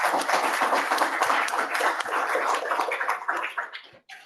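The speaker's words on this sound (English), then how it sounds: "Can we have a round of applause, please?" An audience at a tech meetup breaks into sustained applause, a dense, loud clapping that holds steady for several seconds before tapering off.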